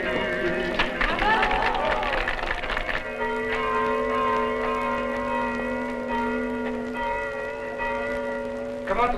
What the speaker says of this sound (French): Comment trouvez-vous mon carillon